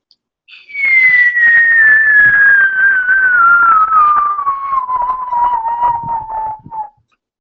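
A single long whistle glides steadily downward in pitch for about six seconds, a voice imitating something falling from a great height.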